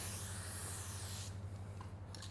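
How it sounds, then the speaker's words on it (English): A can of light hold hairspray hisses in one long soft spray from close range, then cuts off, leaving a faint quiet room. "you can use a very light spray of light hold hairspray"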